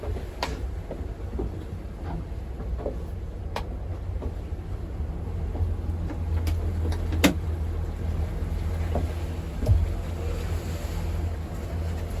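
Boat engines rumble low and steady over wind and lapping water as boats enter a marina harbour at Golfe-Juan, with occasional distant clanks and knocks; no talking.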